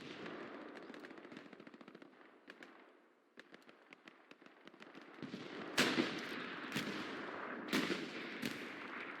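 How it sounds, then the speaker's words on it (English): Allied artillery pounds the battlefield in the World War II game Hell Let Loose, with rapid gunfire rattling first and then several heavy, loud explosions booming one after another. "And there comes the Allies' artillery."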